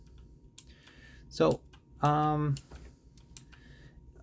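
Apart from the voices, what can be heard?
blue mechanical keyboard switches clicking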